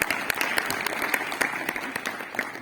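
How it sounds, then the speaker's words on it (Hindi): Steady, fairly faint applause from an audience for schoolchildren after their song at a school event, many hands clapping together with a few sharper claps standing out. "खुलकर दे दो तालियां इन बच्चों को"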